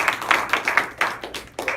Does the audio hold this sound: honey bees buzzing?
no